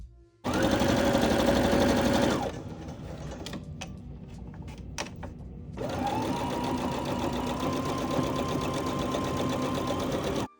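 A sewing machine stitches denim patchwork in two loud, steady runs of rapid mechanical whirring, separated by a pause with a few light clicks.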